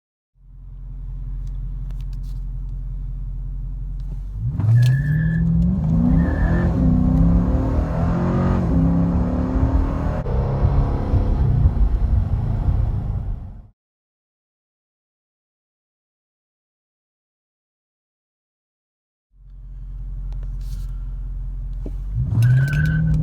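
Dodge Charger R/T automatic and Dodge Challenger R/T six-speed manual accelerating from a standstill: a close, loud engine rumble swells into a hard run lasting several seconds, cuts off to silence, then a second engine builds again near the end.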